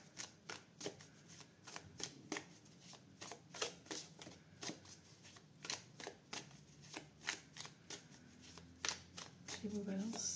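Close, crisp shuffling and cutting of a tarot deck, a steady run of sharp papery slaps and riffles repeating roughly every half second, with a brief rustle and handling noise at the end.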